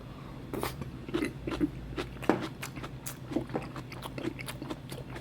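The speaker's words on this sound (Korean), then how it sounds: "자, 이렇게 해서 도가니랑 해서 신김치 이렇게 한번 먹어볼게요" Someone eating beef knee cartilage with sour kimchi, close-up soft bites and moist chewing with a few crunchy snaps, irregular and fairly quiet over a low room hum.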